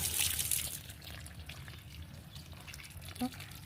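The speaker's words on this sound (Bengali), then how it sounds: "এবার এর মধ্যে আমি একটু জল দিয়ে দেব" Water poured from above onto the soil of a potted, freshly replanted old night-flowering jasmine (shiuli) tree, a faint, soft trickle and dribble with a small drip near the end, under low background noise.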